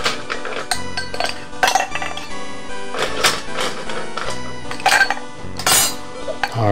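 Ice cubes clatter into a cocktail glass for Halloween drinks, a run of sharp clinks and rattles arriving in several bursts at close range.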